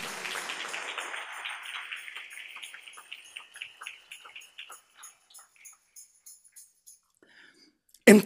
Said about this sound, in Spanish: Denle ese aplauso al Rey en esta hermosa y preciosa mañana.